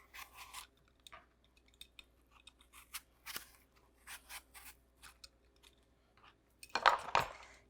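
Apple peeled by hand with a knife at a kitchen counter, giving soft scattered scraping and cutting strokes, mostly faint and close, with a louder burst of scraping near the end.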